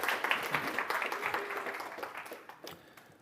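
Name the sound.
applause at conference talk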